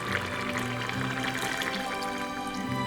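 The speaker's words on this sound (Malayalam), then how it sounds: "നമ്മൾ ഇതിലേക്ക് 1ാം പാല് ചേർത്ത് കൊടുക്കാം." First coconut milk pouring into a pot of Angamaly mango curry with well-cooked mango, a steady liquid trickle and drip held close and continuous under a low background hum.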